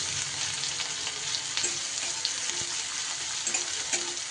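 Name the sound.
finely chopped onion frying in a pan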